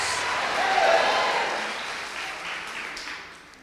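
A church congregation claps together in a dense wash of applause that swells, then slowly fades over a few seconds, heard from within a large hall.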